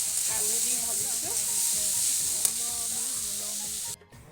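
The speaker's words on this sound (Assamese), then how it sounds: "এতিয়া বনাই আছোঁ মই ভাজি মানে কল পচলা আৰু বুট আলু দি ভাজিছোঁ" Banana flower and potato fry in a pan with a constant close sizzle, while a spatula scrapes and taps in a rhythm on the pan. A sharp click comes near the end and the sound briefly drops out.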